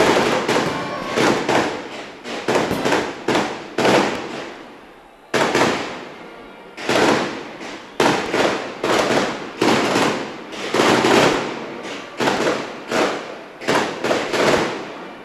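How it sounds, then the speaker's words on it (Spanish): A fireworks display on the night of the San Fermín festival's closing, with a dense, continuous run of loud booming bursts and crackling explosions, repeating in rapid irregular volleys with only brief pauses. "Despliegue de fuegos artificiales en esta noche de 14 de julio de 2015."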